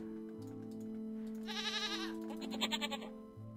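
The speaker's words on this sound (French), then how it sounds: "Comment faire dégager une chèvre" A goat bleats in the puzzle game Rusty Lake Paradise, a few wavering nasal bleats over steady low music tones, close and moderately loud.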